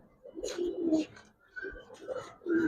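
Giribaz and coloring pigeons in a loft give soft, close, rolling coos in several repeated phrases, with faint background voices.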